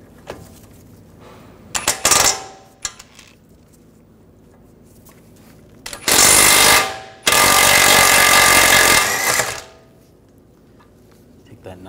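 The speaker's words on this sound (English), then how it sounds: "Take a 24mm socket or a wrench, loosen up this nut." A wrench or 24mm socket loosens a ball joint nut on a 2009-2010 BMW 535i xDrive front suspension, giving loud bursts of rapid ratcheting and clattering, the longest running several seconds, between quieter workshop stretches.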